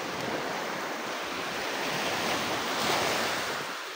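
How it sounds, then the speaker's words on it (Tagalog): Ocean waves break and wash steadily onto the shore, a broad continuous roar with a slight swell near the end, heard alone without voices. "Tingnan mo yung alon, Mak."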